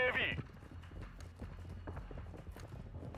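Footsteps of a player character in Call of Duty: Modern Warfare II, heard as quick, rhythmic running steps, faint and fairly distant, after a brief sharper sound at the start.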